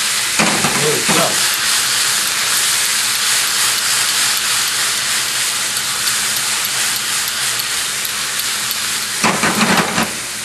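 Vinegar and caper liquid reduce in a hot pan after pistachio-crusted chicken, a loud, continuous sizzling hiss with brief louder spatters near the start and end.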